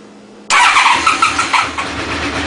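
A 1992 Honda VFR750 RC36 motorcycle, freshly restored, cranks and struggles to start: a sudden loud burst of whirring, sputtering engine noise up close, followed by uneven pulsing as it tries to catch.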